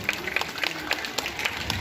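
A crowd at a village school learning festival claps loudly, a brisk patter of many hands heard close by.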